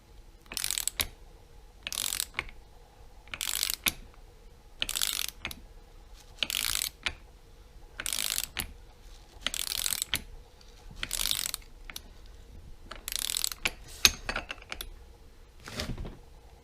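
A ratchet-driven special tool tightens the timing belt pulley of a 944cc Ducati ST2 engine to 71 Nm, making a steady run of about nine evenly spaced bursts of rapid, close metallic ratcheting clicks with brief pauses between strokes.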